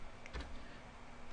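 Faint keyboard typing while entering code: a few quick soft clicks near the start, then low room hiss with no talking.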